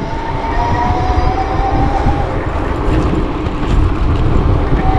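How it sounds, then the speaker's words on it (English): e-JOE JADE 750 electric cruiser bike accelerating on throttle only, a loud continuous rushing roar of wind and road noise with a faint rising whine underneath, close and unbroken, with no talking. "let's see how fast I can go on throttle only"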